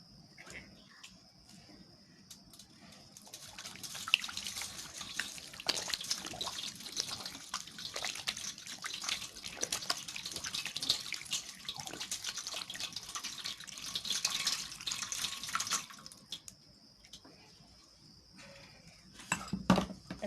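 Cold tap water runs over hands being rinsed after a scrub, a steady splashing rush for about twelve seconds that then stops, leaving quieter handling sounds.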